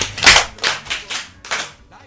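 A few bursts of clapping from a podcast audience, loud and bright at first, then several shorter rounds that fade, with no talking over them.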